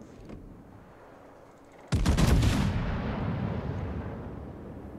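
A heavy naval gun salvo in a video game sea battle booms out loud and close in one sudden blast, followed by a long rumbling decay.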